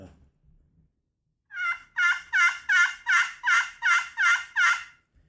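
A hand-held Corian turkey call sounds a run of eight sharp, evenly spaced yelps, loud and close, after a moment of near silence.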